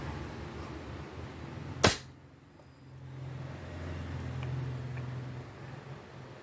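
A Greyhound T-Rex bullpup airsoft gun fires a single sharp, fairly quiet shot close by, followed by a low mechanical hum.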